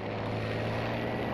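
A propeller plane drones overhead in Battlefield V, a steady, loud engine roar with no talk that holds throughout without fading.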